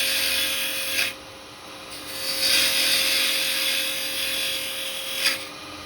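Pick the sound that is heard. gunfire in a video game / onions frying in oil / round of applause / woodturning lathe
woodturning lathe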